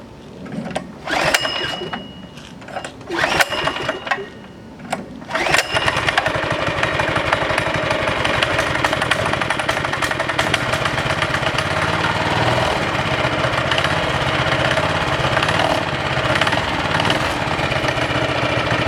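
A go-kart engine fitted with a replacement stock carburetor sputters through a few pull-start attempts, then catches and runs at a steady, loud, buzzing idle close by.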